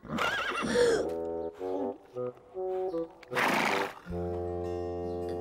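Several horses whinny and neigh in close succession, loud and near, with high wavering calls broken by short pauses and a long final neigh.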